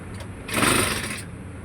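A Honda GX35 small petrol engine, already warm and left unused for three months, catches and fires up briefly, a loud rough burst of about a second that then drops back toward a low mechanical hum.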